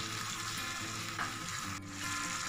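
Prawns sukka sauteing on high flame with salt, a loud steady sizzle and fry hiss filling the whole moment, with soft scraping stirs underneath and no talk.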